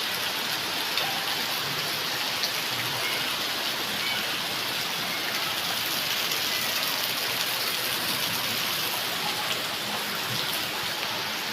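Heavy typhoon rain in Mariveles, Bataan pours steadily, a dense, unbroken hiss of drops pattering on surfaces, with no voices over it.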